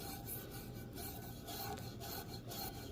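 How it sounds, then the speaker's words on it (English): Gentle scrubbing of rusty cast iron after a vinegar and baking soda bath, a steady soft rasping scrape with faint rhythmic pulses, close up and quiet, no talking. "Let's scrub a little bit here, real gentle."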